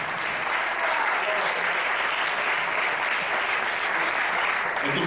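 Concert crowd at an album launch in Jaén gives the drummer a sustained round of applause, a dense, even wash of many hands clapping that continues without letup and without talk.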